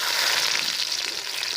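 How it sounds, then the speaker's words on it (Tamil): Cut onions fry in hot oil for a meal maker egg gravy, a loud steady hiss and crackle of sizzling at close range with no other sounds. "வெங்காயம் 4 கட் பண்ணி வச்சுருக்கிறத போட்டுக்கலாம்பா."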